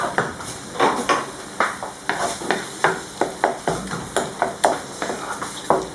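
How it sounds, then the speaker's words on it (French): A spoon stirs grilled eggplant zaalouk with olives and preserved lemon in a pan or bowl, giving a steady run of soft scraping, clinking strokes at a close, quiet level with no voices. "Et je vais mélanger."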